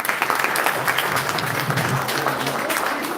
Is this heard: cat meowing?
no